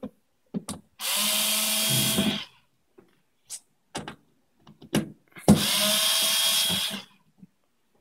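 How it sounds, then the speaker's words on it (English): A power screwdriver backs screws out of a RADAR studio Bay of Gigs dual receiver chassis in two loud, sustained whirring bursts of about a second and a half each, separated by short clicks and handling knocks. "I'm using a power screwdriver because it's a lot faster"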